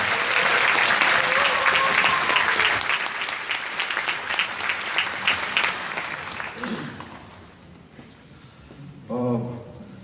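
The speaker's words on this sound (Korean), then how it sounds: "큰 박수로 맞이해주시기 바랍니다" Loud applause from an audience at a Busan welfare rally welcoming an independent candidate, continuous clapping that gradually thins out before a voice speaks near the end.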